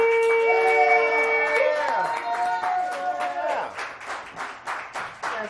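Audience applause and scattered clapping at a comedy club show, the crowd's claps growing into dense, irregular bursts after some opening musical tones, fairly close and lively.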